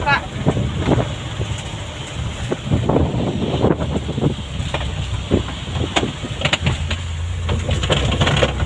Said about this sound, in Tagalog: Sobrang laki ng alon po.